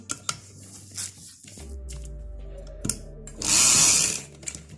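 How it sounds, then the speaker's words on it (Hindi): A sewing machine stitches a seam on a plain shalwar. A low motor hum runs for a couple of seconds, then a louder, faster burst of stitching follows, with scattered handling clicks of the fabric around it. "खोलने के बाद आपने इस तरीके से सिलाई लगानी है"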